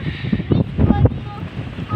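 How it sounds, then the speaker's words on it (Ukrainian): Strong wind buffets the microphone with a constant low roar in a sunflower field, and a voice is faintly audible underneath. "бо вітер дує такий сумасшедший"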